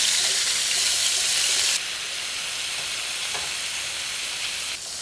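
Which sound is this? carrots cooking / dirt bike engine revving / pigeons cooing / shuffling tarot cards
carrots cooking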